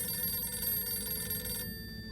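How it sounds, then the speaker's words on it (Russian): A telephone rings in the video game Harold Halibut with a faint, steady bell tone over a low hum that cuts off abruptly after about a second and a half. "Какой странный телефон."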